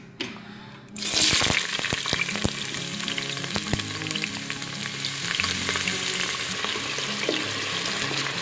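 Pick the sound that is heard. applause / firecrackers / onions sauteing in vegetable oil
onions sauteing in vegetable oil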